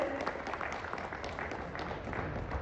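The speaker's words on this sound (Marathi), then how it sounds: "जोरदार टाळ्यांचा आवाज यायला पाहिजे" An audience at a felicitation ceremony claps together in a dense, steady burst of applause, moderately loud and sounding somewhat distant across the hall.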